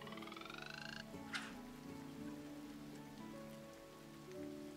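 Steady rain patters down in the farming video game Coral Island, a soft continuous hiss beneath looping game music with a brief chime near the start.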